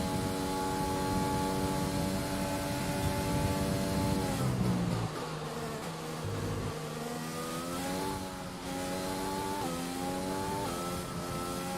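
A Formula 1 car engine in the F1 2020 racing game, a loud high-pitched whine that holds steady, drops sharply on a gear change and climbs again as it accelerates, with no voices.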